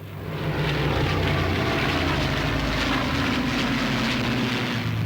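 Vintage aircraft flying in formation at an air show give a loud, continuous engine roar that builds in the first half second and then holds steady.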